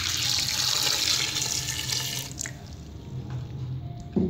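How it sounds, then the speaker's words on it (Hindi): Water pours from a tap into a pressure cooker holding black chickpeas with onion, tomato, garlic, green chili and spices, a steady splashing stream that runs for about two seconds, then tapers off into a few faint drips. "सारे मसाले ऐड करने के बाद मैं इसके अंदर पानी ऐड कर दूंगी।"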